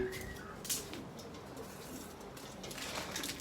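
Soft pigeon coos sound faintly against a steady background hiss, with a brief flutter of wings early on.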